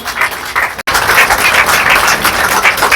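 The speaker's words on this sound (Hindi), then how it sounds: "आप लोग ताली बजाने में चूक मत कीजिए।" An audience applauds at a BJP membership drive event, dense clapping that is loud and close, continuing steadily after a very brief break.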